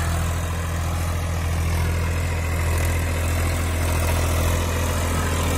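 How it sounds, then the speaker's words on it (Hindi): A Massey Ferguson 241 tractor pulls a harrow through a field, its diesel engine giving a loud, steady low rumble that continues without pause. "ट्रैक्टर देखो क्या दम लगा के खींच रहा है"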